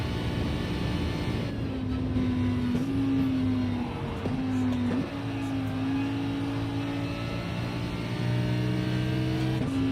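A race car engine in Gran Turismo 7 drones steadily through upshifts, its pitch rising and then dropping at each gear change, with a whooshing, airy roar beneath it and no talk.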